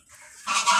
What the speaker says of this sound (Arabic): ودول شوية الفراخ البلدي بتاعنا